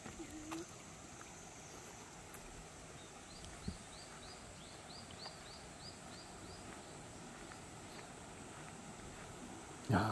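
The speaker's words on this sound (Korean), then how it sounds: "여기에 계곡 옆에 물 흐르는 소리가 쫄쫄쫄쫄 나면서 있습니까?" A valley stream trickles beside a temple in Haenam, a faint, steady wash of flowing water heard from a short distance, with a few soft bird chirps over it.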